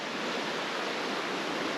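A flowing creek runs beside a rainy campsite, heard as a steady, even broadband rush of water with no variation over the short stretch, moderately loud and with no voices.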